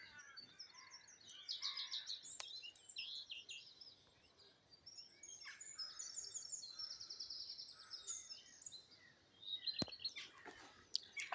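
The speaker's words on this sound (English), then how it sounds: "We've got the sound of many birds, the jackdaws, the blackbirds, the crows." Jackdaws, blackbirds and crows call and chirp intermittently outdoors, mostly faint and moderately distant, with a few sharper nearby clicks among the calls.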